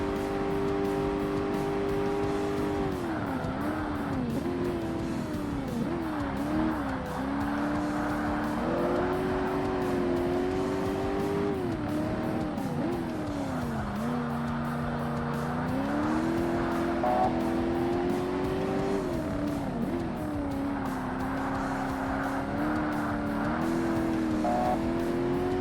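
Classic sports cars racing in Forza Motorsport on Xbox, a continuous loud engine drone rising and falling through gear shifts and revs, with occasional tire squeal and no pauses.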